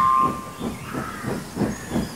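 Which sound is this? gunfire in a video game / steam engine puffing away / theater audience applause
steam engine puffing away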